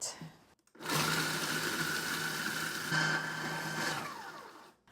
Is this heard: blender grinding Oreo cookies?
yes